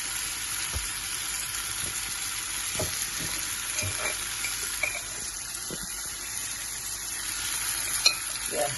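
Fresh prawns fry in coconut oil in a pan, giving a steady close sizzle with occasional stirring scrapes and small pops, with no talking.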